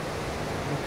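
Sea waves wash onto a beach in Lebanon, a steady, even rush of surf noise heard briefly with no voices.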